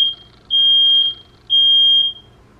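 A smoke alarm emits loud, high-pitched beeps in a regular on-off pattern, each tone lasting about half a second, set off by steam upstairs.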